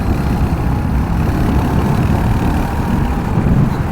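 Royal Enfield Hunter 350 motorcycle engine droning steadily while riding in fifth gear, a loud, even low rumble with wind noise and no pauses.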